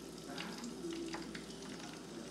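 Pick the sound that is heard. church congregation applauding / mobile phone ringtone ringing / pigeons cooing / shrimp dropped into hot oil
shrimp dropped into hot oil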